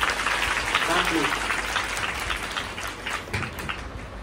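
Applause for Dev Foundation at a school event, a sustained wash of many hands clapping in a crowd, steady and fairly loud, with voices mixed in beneath.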